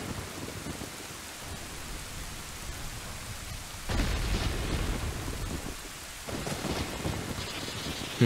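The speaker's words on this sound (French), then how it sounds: "un giga éclair vient de frapper la tombe" Thunder from a lightning strike on a tomb in Zelda: Ocarina of Time, a rumbling crash over steady heavy rain that swells sharply midway and again near the end.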